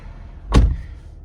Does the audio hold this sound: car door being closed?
yes